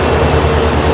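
The Yesvantpur–Vasco express pulls into platform 2 with a steady, loud rolling rumble and a thin high whine over it, heard only briefly.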